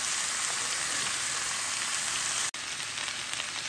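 Pumpkin sabzi (kaddu) with five-spice tempering sizzles steadily in a hot pan while being stirred, a continuous close frying hiss with a brief break partway through.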